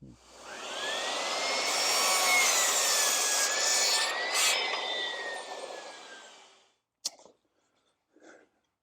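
A hand saw cuts a wooden header for an acoustic panel frame, one long continuous rasping stroke sequence lasting several seconds, close and clear, then stopping, followed by a couple of brief knocks.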